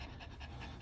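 A dog pants rapidly and steadily at close range, quick rhythmic breaths filling the short moment with no voices.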